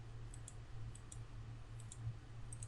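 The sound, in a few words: computer mouse clicking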